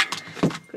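Car keys jangle briefly in a few quick metallic rattles, close by and fairly loud, alone with no talk.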